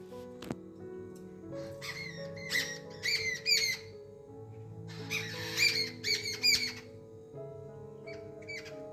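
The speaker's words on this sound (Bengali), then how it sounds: "পাখি উঠছে দেখো দারুণ" Birds chirp and call outdoors near a garden with trees, in short bright bursts clustered around the middle and again near the end, over a low steady background hum.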